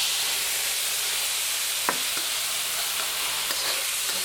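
Crab fried rice with soy sauce, fish sauce and honey fries with a steady, dense sizzle in a hot pan, with occasional soft scraping taps of stirring.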